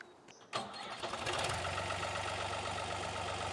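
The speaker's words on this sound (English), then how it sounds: "I just need to fire up the tractor" A tractor engine cranks and catches after a brief pause, then settles into a steady, loud rumbling idle close by on a hot day, with no voices.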